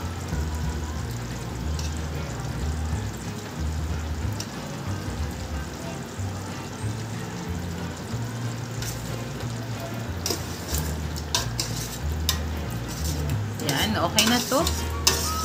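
Chicken biryani with potatoes and sauce being stirred in a pan, a soft continuous scraping and light sizzle with occasional utensil clinks against the metal, a brief spoken remark over it.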